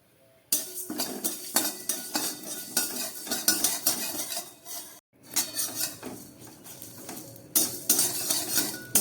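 Dry red chilli and coriander seeds dry-roasting in a kadai rattle and scrape as a metal spoon stirs them. The clinking strokes come in repeated bursts, close and fairly loud, with one short pause midway.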